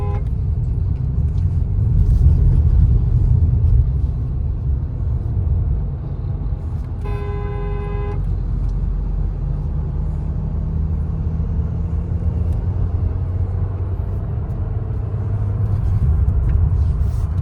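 A Skoda Slavia picks up speed smoothly, its steady engine and road rumble loud and continuous from inside the cabin, with a brief tonal chime partway through.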